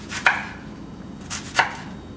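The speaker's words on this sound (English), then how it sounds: "you want to slice your shallots really thin." A knife thinly slicing shallots on a board, with two crisp cutting strokes roughly a second apart over a quiet hiss, close up and with no speech.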